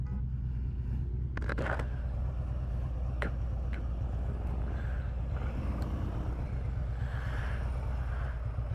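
Motorcycles rumble past on the road during Laconia Bike Week, a steady low engine drone that holds for the whole stretch, with a few sharp clicks and faint higher whines riding over it.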